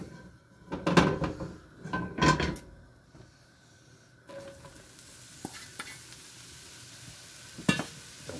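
Mushrooms frying in oil in a warm pan: a soft, steady sizzle with a few louder scraping stirs near the start, then quieter occasional clinks and shuffles, close and alone with no voices.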